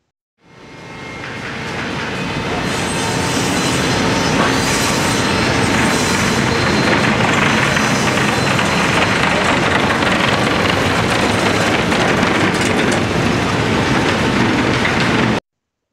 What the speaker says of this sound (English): Now you can hear exactly how noisy it is here in the factory.